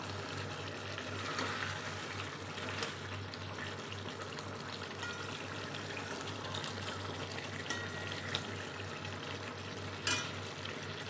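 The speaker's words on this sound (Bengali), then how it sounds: "আমি আর একটু জল দিয়ে এটা ভালো করে নাড়তে থাকবো" Potato and pointed gourd curry with prawns, thinned with a little water, bubbles and sizzles in a pan while being stirred, a steady close frying hiss with light scraping and one sharp knock near the end.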